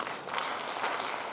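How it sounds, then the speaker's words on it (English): Brief burst of audience applause at an international wellness forum, welcoming the master of ceremony; dense, steady clapping from a crowd, moderately loud and short. "give her a round of applause"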